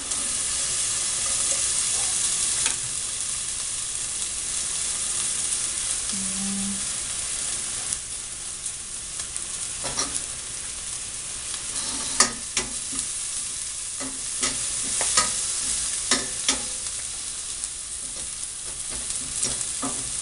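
Half an onion sizzles steadily in a pan alongside pork chops, a continuous broadband frying hiss with occasional sharp pops and clicks of stirring, close and moderately loud throughout.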